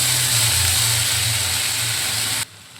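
Onion and tomato paste for chili paneer sizzles in a hot pan, giving a loud, close, steady hiss that holds evenly and then cuts off abruptly near the end.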